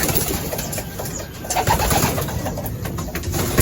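Racing pigeons cooing together in a loft after a summer race, giving close, repeated soft throaty coos over steady rustling background noise.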